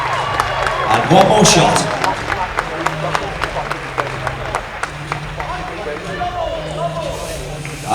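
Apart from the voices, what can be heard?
audience applause for bodybuilding category winner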